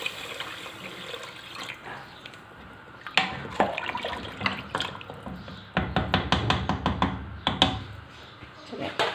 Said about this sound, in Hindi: अब इनमें जितना हमें पानी शामिल करना है उतना मैं पानी कर रही हूँ शामिल